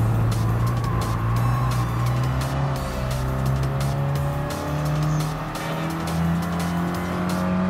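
A first-generation Mini Cooper races in Gran Turismo Sport, its small engine droning steadily with shifting pitch as revs rise and fall, loud and continuous, with brief tyre squeal and no talking.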